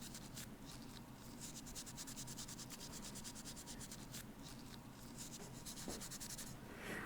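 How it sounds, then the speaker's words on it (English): Scotch-Brite pad scrubbing an enamel surface, a close, steady rapid rasping rub in quick back-and-forth strokes, quiet and without talk. "I am using a Scotch-Brite pad to, I'm not only cleaning the surface, I am lightly abrading the surface."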